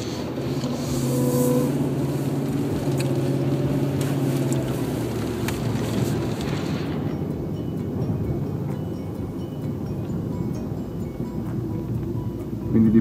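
An Audi A8 with an automatic gearbox accelerates steadily, its engine note climbing through the gears before easing off into a quieter cruise partway through.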